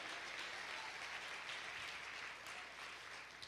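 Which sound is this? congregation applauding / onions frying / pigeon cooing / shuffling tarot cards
congregation applauding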